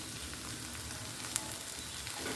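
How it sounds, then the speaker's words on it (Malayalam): A vegetable stir-fry (poriyal) sizzles steadily in a pan as it is stirred, a soft continuous frying hiss with only faint stirring movement, fairly quiet and without voices. "നന്നായിട്ട് എല്ലാ ഭാഗത്തേക്കും ആകത്തക്ക വിധം നന്നായിട്ടൊന്ന് ഇളക്കി കൊടുക്കും."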